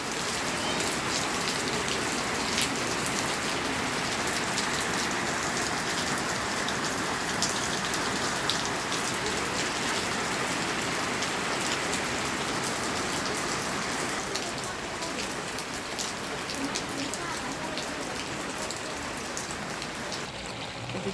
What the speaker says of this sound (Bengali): বাহিরে এসে বৃষ্টি নামছে